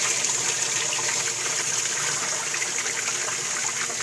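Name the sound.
water dripping into drain system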